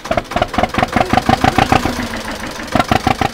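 A narrowboat engine starting on choke, cranking with a rapid rhythmic chugging pulse, loud and close, which stumbles briefly and then resumes its fast, even beat.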